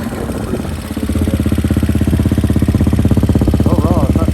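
A 2020 Hawk 250 DLX EFI motorcycle engine idles a little high, a close, loud, steady pulsing thrum that stays even throughout.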